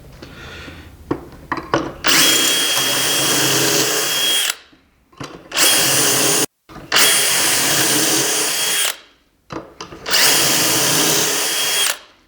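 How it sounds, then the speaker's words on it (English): A power drill bores pocket holes into the ends of 50-inch wooden boards set up for 2.5-inch screws, running in four long, loud, steady whirring bursts with brief pauses and a few light clicks of handling before the first. "So we are going to put holes on both ends of both of the 50-inch long boards."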